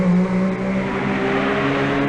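Rally cars accelerate out of the gasworks hairpin during a timed lap, a near engine roaring steadily with a strong low drone and rising harmonics, loud and sustained with no voices.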